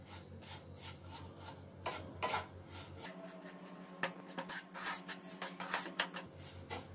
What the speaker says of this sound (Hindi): आप मीडियम फ्लेम पर इसे रोस्ट करें।